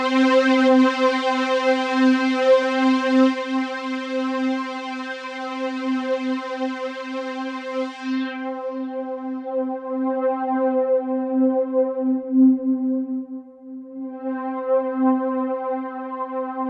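Synth pad with an 80s theater preset holds one sustained note for a long stretch. The tone is steady and bright at first, then turns duller and smoother midway as the upper brightness fades away.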